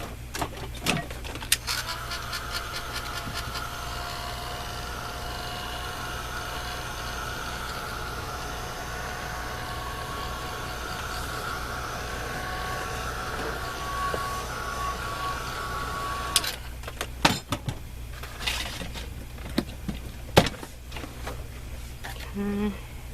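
A heat tool dries ink on a scrap-stash crafting project, blowing as a steady, even whir for most of the stretch before cutting off, followed by a few scattered knocks and handling clicks.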